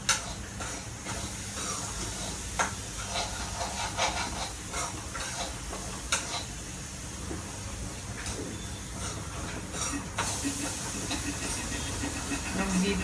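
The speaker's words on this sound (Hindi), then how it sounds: "गीता अभी इसको भून रही है।" Ingredients roast in a pan, giving a steady, continuous sizzling hiss with occasional stirring scrapes and small clicks throughout about thirteen seconds.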